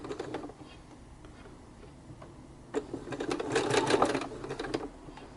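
A sewing machine stitches along the edging of fabric flowers, a brief rattle early on, then a quiet pause before a longer, louder run of rapid mechanical stitching that builds and fades.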